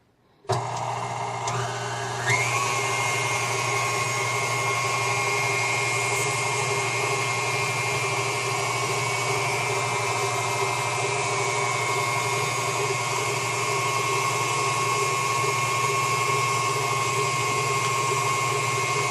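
An electric mixer with a whisk attachment beats egg whites as sugar is added, a loud steady mechanical whir that spins up in the first seconds and then runs continuously at constant speed with no talk.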